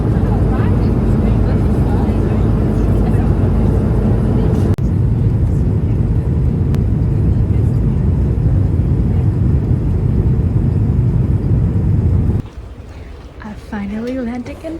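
Loud, steady roar of a passenger jet cabin during landing approach into Paris Charles de Gaulle, a deep engine and airflow rumble that drops away near the end, where faint speech begins.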